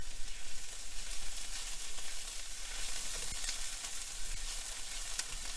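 Beef stir fry sizzling steadily in melted butter with turmeric and curry powder, a continuous close crackle with a few sharper pops and light stirring.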